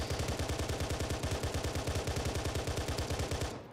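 Comp pistol in Operation Trebuchet emptying its magazine in one long, rapid, steady burst of shots, loud and close, about three and a half seconds before the firing cuts off.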